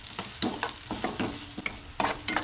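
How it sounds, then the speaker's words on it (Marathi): Onions roasting in a pan for a Goan-style crab curry, soft sizzling broken by a quick series of spatula scrapes and stirring knocks, close but fairly quiet, with no talking. "कांदोय बीन न्हय बरो म्हणटा तसो भाजून घेवंक जाय."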